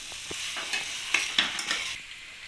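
Boiled chickpeas sizzle steadily in a pan of spices while a spoon stirs them with a few soft scraping knocks, close and continuous.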